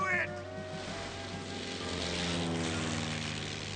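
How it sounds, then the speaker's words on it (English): Propeller airplane droning in a Tintin cartoon scene, a steady engine hum with tonal bands sitting under music and effects. "That plane is from the Aurora!"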